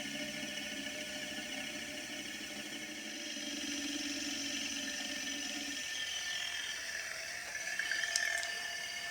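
An AC belt tensioner pulley on a Mercedes 560SL spins with a faint, continuous mechanical whir and ticking rattle, holding steady before a brief clatter near the end.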